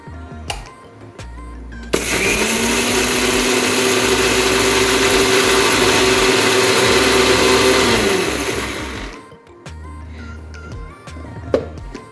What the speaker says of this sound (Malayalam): നമുക്കിനി ഇത് മിക്സിയിലേക്ക് മാറ്റാം ചെറിയൊരു ചൂടേ ഉള്ളൂ